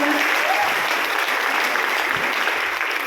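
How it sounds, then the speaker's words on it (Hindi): Loud, dense audience applause in thanks to teachers at a talk: continuous clapping from a large crowd, steady and close throughout, without a break. "एक बार जोरदार तालियों से गुरुजी का धन्यवाद।"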